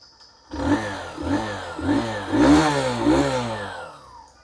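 A motorcycle engine revs repeatedly, rising and falling in about five close, loud bursts before settling back to idle.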